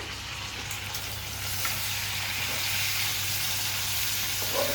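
Ginger garlic paste fries in a pan for a chicken fry, giving a dense, steady sizzle that grows slightly louder, with faint stirring touches and no talk.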